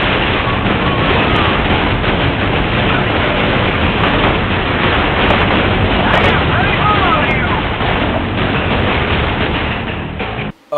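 Continuous, heavy turret gunfire and explosions from the video game FEAR 2, a dense, loud roar that barely lets up until cutting off at the end.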